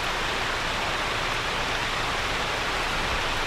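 Steady heavy rain in Euro Truck Simulator 2, an even broadband wash heard from a truck, constant and fairly loud with no breaks.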